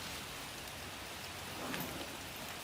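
Steady rain falling outdoors on a farm, an even dense hiss of drops on surfaces with no voices.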